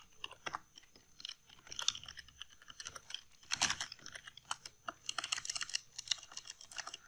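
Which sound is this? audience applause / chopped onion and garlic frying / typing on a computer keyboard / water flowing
typing on a computer keyboard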